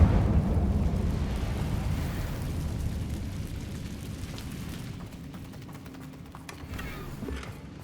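In the Hogwarts Legacy video game, an Incendio fire spell bursts out with a rumbling, whooshing roar that slowly fades over several seconds amid low game background noise.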